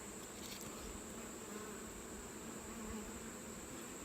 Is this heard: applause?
no